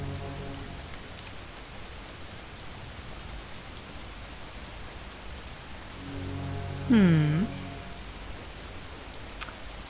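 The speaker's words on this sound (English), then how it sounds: "Rain?" Rain falls steadily on a cliffside as a soft, even patter. Near the end a brief, louder burst rises over it.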